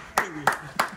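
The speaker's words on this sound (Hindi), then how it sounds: "ये है तालियां" Three sharp, separate hand claps spaced about a third of a second apart, close and fairly loud, with a short voiced sound between the first two.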